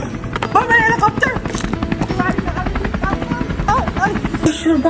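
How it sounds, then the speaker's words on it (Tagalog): A helicopter passes overhead, its steady buzzing drone running under lively, excited voices of children and adults talking throughout. "May helicopter!"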